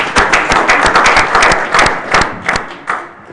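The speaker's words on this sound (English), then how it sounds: "Actually, you do deserve the applause" An audience at an annual general meeting claps in a dense burst of applause that thins into scattered claps and fades out over a few seconds.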